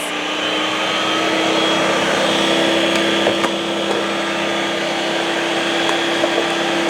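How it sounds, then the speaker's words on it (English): A Ninja Creami Deluxe spins soft serve ice cream with a loud, constant whirring hum, steady throughout with a few faint clicks. "So we're gonna do soft serve ice cream. That's gonna spin for 4 minutes."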